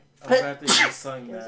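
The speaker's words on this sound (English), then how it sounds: "I'm gonna sneeze." A single sharp sneeze bursts out in the middle of casual talk at a tabletop game session, with voices speaking just before and after it.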